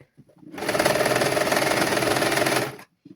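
A sewing machine stitching children's clothing runs in one steady, loud burst of rapid mechanical chatter for a little over two seconds, with brief quiet handling noises before and after.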